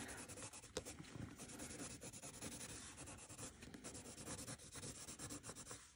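Caran d'Ache Luminance coloured pencil burnishing on paper, a soft close-up rubbing and scratching in quick repeated strokes, faint and steady with no talk.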